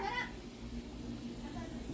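A short, faint cat meow in a home vegetable garden, heard once at the start over soft outdoor background noise while someone talks.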